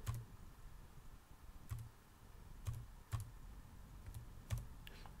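Verification code typed on a computer keyboard: about seven soft, separate key clicks spaced at uneven intervals, close by and fairly quiet, with no talking.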